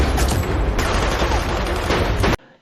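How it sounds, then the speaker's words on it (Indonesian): Heavy gunfight from The Transporter Refueled, dense continuous bursts of gunfire and booming shots filling the scene loudly, ending abruptly into near silence. "Melihat saldonya tiba-tiba bertambah, si Karasop merasa kaget, lalu terjadilah baku tembak."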